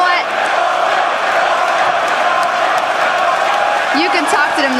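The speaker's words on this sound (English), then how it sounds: "this crowd is giving you a warm welcome once again" A large arena crowd at a League of Legends esports event (EU LCS 2014 Summer finals) roars and cheers in a steady, loud wash, with a few higher whoops rising near the end.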